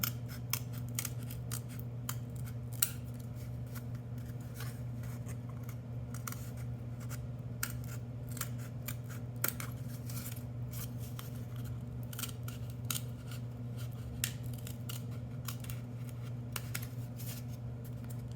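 Scissors snip through a cardboard craft piece in a steady run of crisp, close cuts, each a short sharp click, over a constant low hum.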